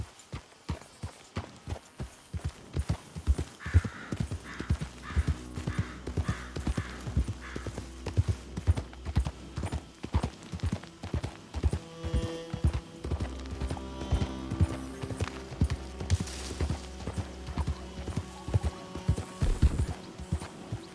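Horse hooves clip-clop at a steady, brisk rhythm in Red Dead Redemption 2, close and continuous, with tack and ambient game sounds underneath and no talk.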